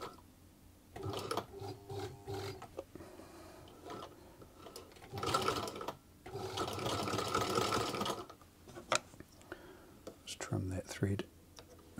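A Singer sewing machine fitted with a buttonhole attachment (No. 86662/86718 type) stitches a test piece at slow speed, with intermittent bursts of mechanical clatter starting and stopping, and a person talks in between.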